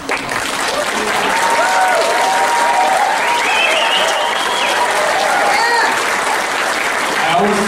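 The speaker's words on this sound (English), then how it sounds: "I want to make sure I get a round of applause for all the graduates" Sustained applause fills a graduation ceremony hall at Leech Lake Tribal College in 2014, a dense, loud, even wash of clapping from a large crowd lasting throughout, with scattered voices and calls rising over it.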